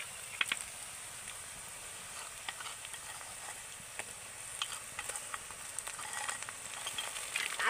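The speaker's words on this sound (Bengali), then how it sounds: "আদা রসুনটাকে পেঁয়াজের সাথে হালকা করে ভেজে নেব, যাতে আদা রসুনের কাঁচা গন্ধটা চলে যায়।" Ginger garlic paste frying with onions in a pan, a soft continuous sizzle with scattered pops and stirring clicks, close and fairly quiet.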